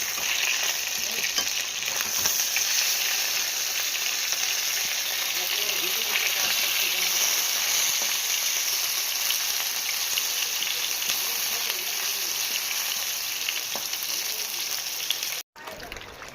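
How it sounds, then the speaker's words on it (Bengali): Leftover food refried in a pan in a home kitchen, a steady, rain-like sizzle that holds for the whole stretch at moderate level, with faint bits of talk in the background. "ভেজে নিচ্ছি।"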